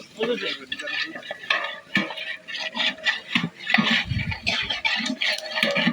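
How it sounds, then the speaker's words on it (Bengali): Chicken khichuri stirred and cooked in a pot, with a low bubbling sizzle, scraping spoon strokes and clinks of metal, close by and moderately loud, with a voice faintly present. "এই যে এখন রান্না চলছে খুব চমৎকার ভাবে"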